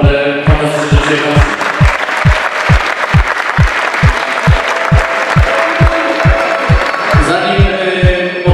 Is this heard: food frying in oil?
no